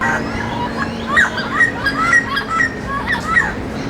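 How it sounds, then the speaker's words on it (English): Parrots squawking and chirping repeatedly nearby in a park in Colombia, shrill calls over a steady hum of background traffic. "there's a lot of parrots in this park that I'm in right now."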